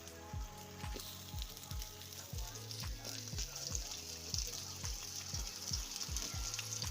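Raw mango pieces and chillies sizzling in hot oil for pickle, a steady crackling hiss, with repeated low thuds as a spoon or spatula moves the pieces around.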